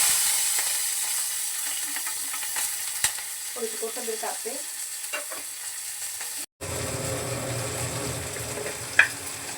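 Mustard seeds and plenty of cumin sizzle and crackle steadily in hot oil over a low gas flame. After a brief cut the frying swells louder, and someone speaks briefly over it.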